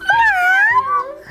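A cat meowing once in a long, wavering, drawn-out call, close and clear with no other sound around it.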